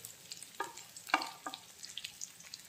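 Chopped onion, garlic, ginger and green chili with two cloves fry softly in a pan, a faint sizzle broken by a few clinks of a stirring spoon.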